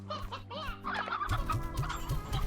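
Hens in the video game Slime Rancher cluck in quick repeated bursts, close and clear, with a steady pulse of low clucks building through the second half.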